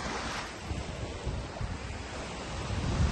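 Sea waves at Side beach in Turkey wash in with a constant rushing surf mixed with wind buffeting the microphone, swelling slightly toward the end, with no talking.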